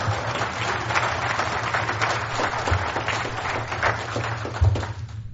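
Audience applause at a lecture by Tyndall, steady broadband clapping at moderate level running throughout, with a low hum underneath and a couple of brief thumps near the end.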